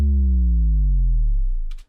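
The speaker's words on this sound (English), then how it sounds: "The bass drop I made by myself, and it sounds like this." Self-made sub bass drop built with JST Sub Drop, a deep, loud tone sliding steadily downward in pitch over about two seconds before cutting off abruptly, alone with no other sounds.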